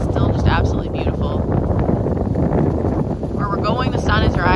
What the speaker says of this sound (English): It is a bit windy out here. I could definitely do without the wind